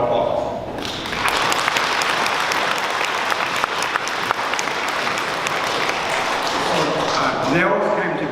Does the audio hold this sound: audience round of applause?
yes